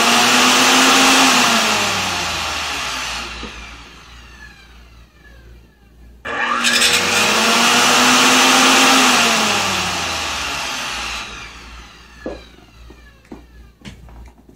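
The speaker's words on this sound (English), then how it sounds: "I can just show you I'm plugging it in and you'll be able to hear the motor and what's happening with this." A Lee Household grain mill's electric motor runs intermittently, spinning up to a loud whine, winding down, then starting again, with a few clicks as it fades at the end.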